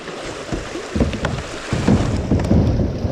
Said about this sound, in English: There's a nice little waterfall right here.